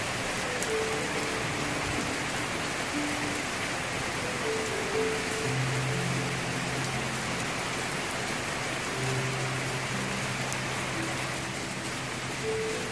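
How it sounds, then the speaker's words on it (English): Heavy rain during a thunderstorm that has stopped outdoor gardening, falling steadily as a dense, even hiss on surfaces, with low rumbles and faint tones in the background throughout. "Who sent all this rain down this way?"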